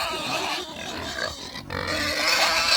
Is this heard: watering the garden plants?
no